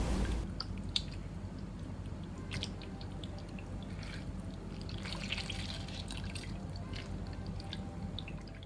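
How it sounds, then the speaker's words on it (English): Cooked bok choy is squeezed by hand to press out its water, giving a steady, quiet wet squish with faint drips trickling throughout. "Gently squeeze out the water from the vegetable."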